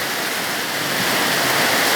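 Torrential rain falling in a constant, loud wash of hiss, steady throughout the short stretch with nothing else heard.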